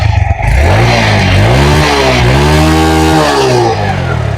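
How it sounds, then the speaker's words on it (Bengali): A second-hand TVS Metro Plus 110cc motorcycle starts close by and its engine revs loudly, rising and falling through several revs before settling, with no talking. "বাইকটা এখন স্টার্ট করে সাউন্ড কন্ডিশন দেখাবো"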